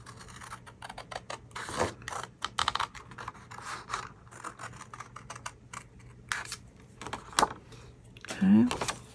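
Scissors snip through stiff card to shape a baby-overalls card, close by: a quick run of short, crisp cuts and rustles with brief pauses and a few sharper clicks.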